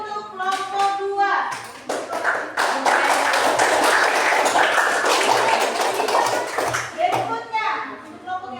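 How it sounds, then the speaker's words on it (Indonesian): Students in a classroom give a group a round of applause, about five seconds of dense clapping from a room full of people, with children's voices and a teacher speaking before and after. "Tepuk tangan dulu untuk kelompok 2."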